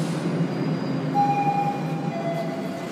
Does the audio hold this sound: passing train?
yes